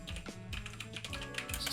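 Quick keystrokes tap on a computer keyboard, a few light, close clicks over a steady low background hum, no speech.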